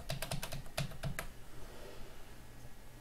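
Keys clatter in a quick burst of typing on a computer keyboard as a file name is entered. About a second of close, crisp taps gives way to quiet room noise.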